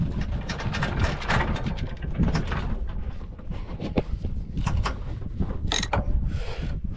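Boat winch mechanism clicking and creaking as a line pays off while lowering a dinghy, an irregular run of close ratcheting and rattling.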